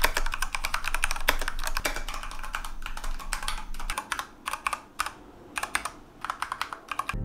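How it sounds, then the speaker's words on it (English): Rapid typing on a clicky mechanical keyboard, dense bursts of sharp key clicks close up that thin into sparser taps and short pauses toward the end. "The clicky sound brings back memories from my childhood when my sister would type late at night for school."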